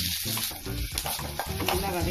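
Chopped onion sautéing in hot oil with tempering for a ridge gourd dry fry, giving a loud, close sizzle with scraping stirring strokes throughout the short stretch.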